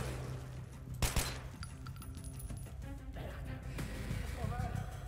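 Gunfire in the shooter Metro 2033 Redux: a sharp close shot near the one-second mark, then scattered metallic clinks and softer shots under game ambience, with a voice talking quietly beneath.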